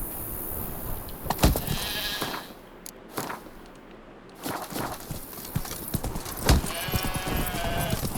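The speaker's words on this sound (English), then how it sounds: "He's killing the sheep." A sheep bleats as it is slaughtered in The Witcher 3: Wild Hunt, its cries mixed with thuds, hoof-like clatter and other loud game noises, with a drawn-out bleat near the end.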